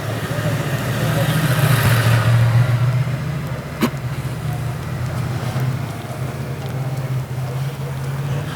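A bus drives through the town streets of Wells, a steady low engine rumble with road and wind noise, a brief knock midway, and a voice talking faintly over it.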